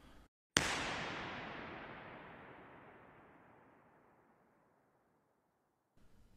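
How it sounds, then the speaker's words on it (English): A single sharp impulse fired in a large cathedral, followed by a long, smooth reverberant tail that fades gradually over about four seconds into silence. "let us listen to the impulse response of a cathedral"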